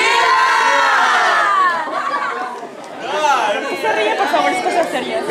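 A crowd at a Mexican fiesta in France shouts and cheers together during the independence cry, a loud mass of overlapping voices that dips briefly midway and then swells again.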